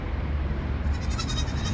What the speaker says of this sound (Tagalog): tapos ito yung mga kambing na makukulit